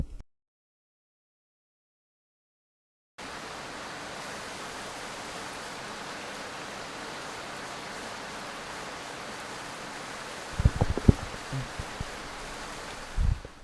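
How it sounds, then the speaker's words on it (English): Steady, even rain hiss fills the air after a stretch of silence at the start, with a few louder low thumps near the end. "It's a rainy day."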